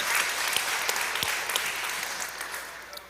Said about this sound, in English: Would everybody please give her a round of applause?